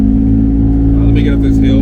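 BMW E36 convertible with a six-cylinder engine running without its cat-back exhaust, a loud, steady close-up drone under a speaking voice.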